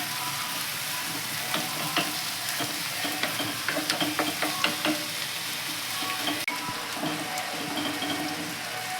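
Carrots for fried rice being stirred and fried in a pan, with a continuous sizzle and a run of quick spatula scrapes and taps, moderately close.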